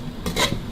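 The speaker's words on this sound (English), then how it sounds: "She just threw in the kaffir lime leaves and just stir fried it just for a couple more seconds" A quick scrape and rustle of stir-frying chili duck with kaffir lime leaves in a hot pan, one short swish of the spatula over a faint background sizzle, close by.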